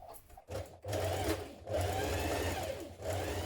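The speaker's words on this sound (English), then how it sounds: "you're going to sew the side seams of the bodice" A sewing machine runs in bursts while stitching the side seams of a dress bodice, a quiet rapid mechanical hum broken by brief pauses, close and without talk.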